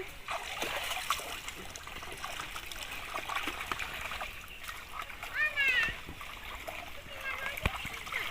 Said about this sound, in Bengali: এবার আমি পুকুরে মাছগুলো ধুয়ে নেবো।